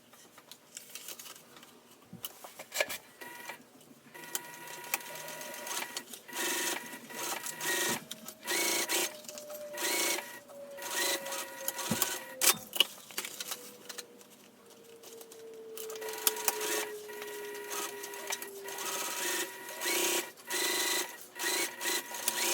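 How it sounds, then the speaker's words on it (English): A sewing machine stitching a bag seam, a close steady mechanical whirring patter running in bursts with brief pauses between stretches of stitching, no voice over it. "Then I'll sew all the way down with the seam allowance given the pattern until I come to this next mark that I made."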